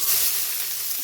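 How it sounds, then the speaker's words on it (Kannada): Mustard seeds sizzle in about four spoons of hot oil as tempering for a vegetable palya, a close, bright, steady crackling hiss that lasts about a second with no voices. "ನೋಡಿ ನಾನು 4 ಸ್ಪೂನು ಎಣ್ಣೆ ಹಾಕ್ಕೊಂಡಿದ್ದೀನಿ, ಸಾಸಿವೆ ಹಾಕ್ತಾಯಿದ್ದೀನಿ"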